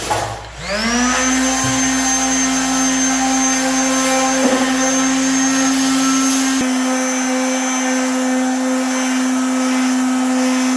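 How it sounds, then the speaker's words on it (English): A power sander works a Gremlin car body down for paint, a loud continuous whine with a steady motor drone, close and unbroken, shifting slightly in tone partway through. "let's go ahead and get this thing sanded down so we can get it ready for paint"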